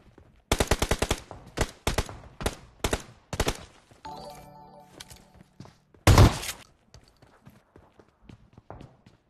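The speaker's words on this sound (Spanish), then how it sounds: "Ay, me están disparando." Video game gunfire: rapid bursts of automatic shots in quick repeated volleys, loud and near, followed by a heavier blast and scattered softer shots as the burst trails off.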